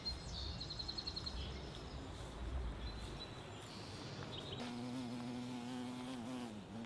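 Bees buzz around a tulip tree covered in blossoms, a steady insect drone filling the garden air, with brief bird calls and a rising tonal hum joining near the end.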